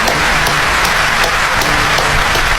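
Steady, dense clapping from an audience celebrating a national football team's step toward World Cup qualification, filling the whole stretch at an even, loud level.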